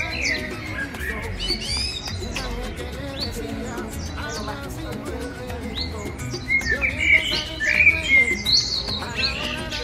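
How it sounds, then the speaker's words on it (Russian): Birds sing in a park in Puerto de la Cruz, with busy high chirps, tweets and trills, some near and bright, over a soft outdoor background murmur. "Послушайте, как поют птички."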